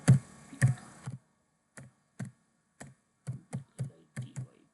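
Someone types Python code on a computer keyboard in uneven bursts of close, crisp key clicks separated by short pauses, with no talking.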